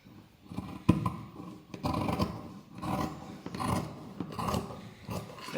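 Scissors cutting through fabric for a child's gown, a series of close, soft rasping snips in a steady rhythm, quiet and without talk.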